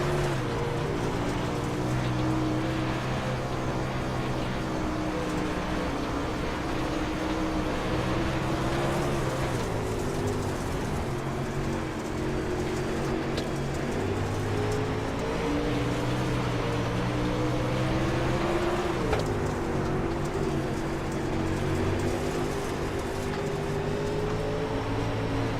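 Onboard race car engine in Jacob Fields' 007 car, a loud, steady droning roar that rises and falls with gear changes through a lap, heard continuously from the cockpit.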